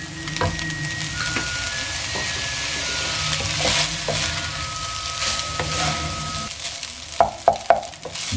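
Rice stir-frying with soy sauce in a hot pan, a continuous sizzle with repeated spatula scrapes and tosses, close by, with a few sharper clanks toward the end.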